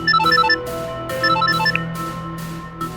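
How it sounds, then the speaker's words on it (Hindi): A mobile phone rings late at night with an incoming call, its bright melodic ringtone repeating in short phrases, loud and close with no voices. "इतनी रात में मम्मी जी का फोन आ रहा है,"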